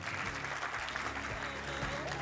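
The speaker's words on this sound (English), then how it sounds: "Let's give a round of applause." Audience applause at a business talk on sales strategy as a guest is invited up, a steady broadband patter of clapping with faint background music and murmuring throughout.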